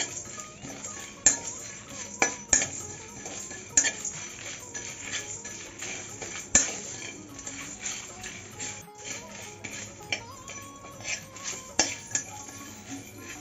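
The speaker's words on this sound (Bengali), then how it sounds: "এবার সব মশলাগুলি দিয়ে দেবো দিয়ে ভেজে নেব হালকা করে বেশি ভাজবো না" Spices lightly frying in a pan while making kasundi, heard as repeated metallic clinks and scrapes of a spoon against the pan over a low background, with sharp taps every second or two.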